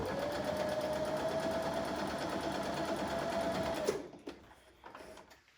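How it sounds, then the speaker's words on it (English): A sewing machine top stitches a folded fabric star closed, running at a steady, continuous whir for about four seconds, then stopping and leaving a few faint handling clicks. "So bring in the machine again, top stitch this closed."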